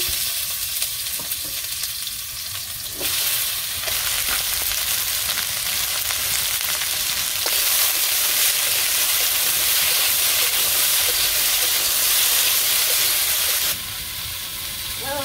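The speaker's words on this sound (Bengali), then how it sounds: "এখন ভেন্ডি ভাজি করবো" Okra sizzles and fries steadily in a pan with green chilies, a continuous loud crackling hiss with occasional stirring scrapes, briefly dropping in level near the start and end.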